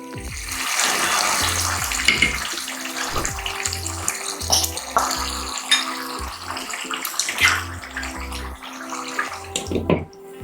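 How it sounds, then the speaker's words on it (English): Water being added to a pot of egusi soup, a running pour with splashes and bubbling along with intermittent clunks and knocks of the pot, close and fairly loud. "So if you don't have enough stock, you can add some water."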